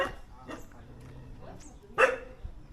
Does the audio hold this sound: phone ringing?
no